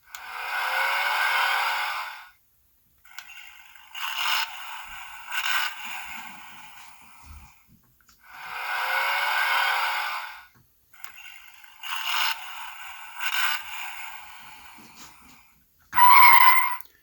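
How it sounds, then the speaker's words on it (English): Electronic engine and transforming vehicle sound effects from a Transformers Rise of the Beasts toy truck, two loud bursts of revving playback separated by brief pauses, then a short final blast, with no talking. "we can just press that, and we have vehicle noises."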